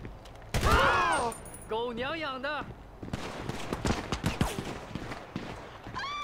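Gunfire in the video game GTA 5 crackles in bursts amid game effects, with someone talking over much of it.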